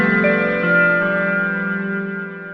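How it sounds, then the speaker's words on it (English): A Yonac Trooper synth plays smooth sustained sine and triangle wave tones, a clean held chord that shifts pitch once and slowly fades, alone and fairly loud. "I like making things with sine waves and triangle waves."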